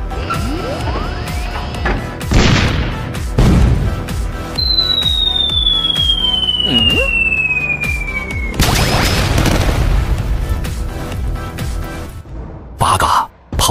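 Animated artillery bombardment against an infantry battalion, repeated loud booms and crashes with whistling incoming shells, a long descending whine and dense blasts over several seconds, with voices speaking under the barrage.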